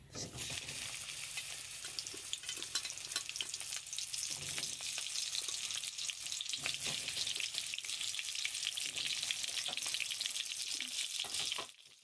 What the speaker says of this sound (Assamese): এয়া তেলখিনি গৰম হৈছে আৰু এতিয়া ইয়াতে দি দিম পটলখিনি